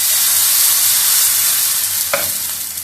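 Elephant foot yam dosa batter sizzles loudly and steadily on a hot iron griddle, a dense close hiss with a brief scrape near the end.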